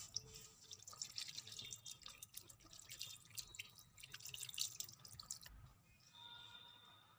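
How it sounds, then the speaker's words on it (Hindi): Clean water runs and drips over fresh chhena cheese curds while they are washed, a soft, close, irregular patter and trickle that quietens near the end. "अब हम इसको एक साफ पानी से वॉश कर लेंगे"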